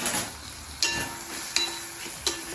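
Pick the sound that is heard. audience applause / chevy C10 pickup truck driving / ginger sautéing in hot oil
ginger sautéing in hot oil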